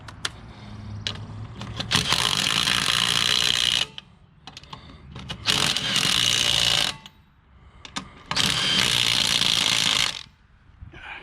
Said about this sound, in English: Gotta love power tools.